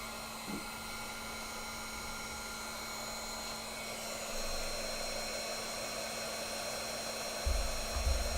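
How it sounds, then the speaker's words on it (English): An embossing heat tool blows hot air in a steady, broadband whoosh with a constant hum, running continuously at moderate level with a few low bumps near the end. "And then I'll grab my heat tool."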